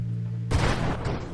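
A railgun fires in the space shooter Nova Drift, a sudden loud electronic blast cutting in over a steady hum of game music and fading into a noisy rumble.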